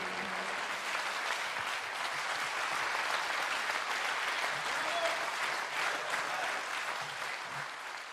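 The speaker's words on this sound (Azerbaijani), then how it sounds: "Biz də alqışlarımızla dəstək oluruq iştirakçılara." An audience on a morning television show gives performers a dense, sustained round of applause that holds steady for about eight seconds, with a faint voice underneath.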